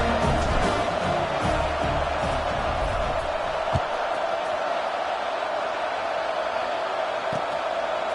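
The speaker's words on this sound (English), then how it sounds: "this crowd is buzzing after that last score" Stadium crowd in the College Football 26 video game, a steady, dense roar that fills the whole stretch at an even level, with a few dull thuds poking through.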